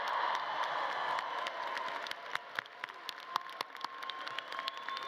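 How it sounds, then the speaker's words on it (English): A graduation crowd at a college commencement claps and cheers, scattered handclaps sharpening into a steady, moderately distant ovation over a broad hall murmur. "you're going to cheer loudly and you're going to leap to your feet"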